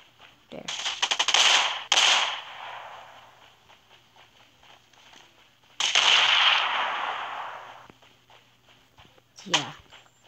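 Gunfire in the mobile battle royale game Rules of Survival, with rapid bursts of shots and a longer spray of automatic fire, a short loud crack near the end, and a speaker talking in the background.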